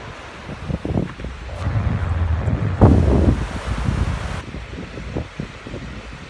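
Gusty wind buffets the microphone outdoors beside the Yamaska River in Granby, southern Quebec, rising and falling in loud rumbling bursts with a faint watery wash underneath.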